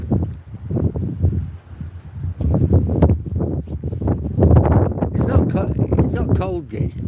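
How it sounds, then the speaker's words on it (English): Wind blowing along a seaside promenade, a loud, continuous rumbling buffet against the microphone with gusty swells, while a person talks over it. "But it's very windy."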